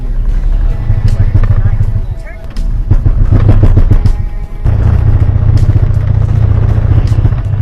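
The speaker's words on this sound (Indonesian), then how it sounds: "potensi sabuk baja untuk pecah di tengah jalan sangat tinggi, yang gejala utamanya adalah mobil menjadi tersendat dan bergetar seperti ini guys" A car with a failing CVT steel-belt transmission rumbles loudly, its engine note jerking and shuddering in uneven surges with brief drops between heavy vibrating stretches.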